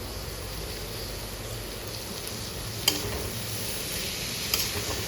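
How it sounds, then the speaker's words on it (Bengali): Fenugreek greens frying in hot oil in a village kitchen pan, a steady close sizzle throughout with a couple of brief sharp clinks of stirring, no talk. "তেলের উপরে তারপরে একটু লাল লাল করে ভাজা করছি"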